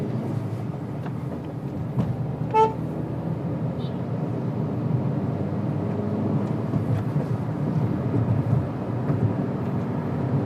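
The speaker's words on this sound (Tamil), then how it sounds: "நம்ம இப்போ 80 ரீச் ஆனது அந்த ஒரு பீப் சவுண்ட் கேட்டுச்சு" A short electronic speed-warning beep from a 2021 Hyundai Venue 1.2L petrol compact SUV at 80 km/h, sounding once with a faint second chirp over loud steady road and engine noise inside the cabin.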